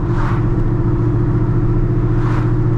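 Corvette C5 Z06 fitted with an LS364 engine, driven on the road, gives a steady, loud low engine drone with a constant rumble throughout; no talking.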